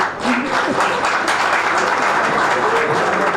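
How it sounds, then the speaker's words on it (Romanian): Audience applause at a county football awards gala in Tulcea, a steady dense wash of clapping from a full hall, loud and close throughout with a faint voice briefly audible underneath. "Aplauze."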